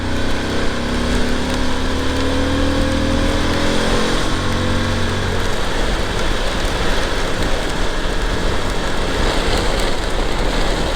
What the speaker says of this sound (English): I think there's too much rain.